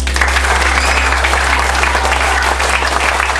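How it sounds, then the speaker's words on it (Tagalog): An audience bursts into steady, dense applause, a continuous wash of many hands with no separate countable claps standing out, over a low constant hum throughout. "bigyan natin sila ng 10 malalakas na palakpak."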